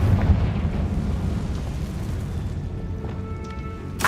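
Confringo spell explosion in the video game Hogwarts Legacy, a deep rumbling boom that rolls off into a sustained low roar, ending in a sharp crackle.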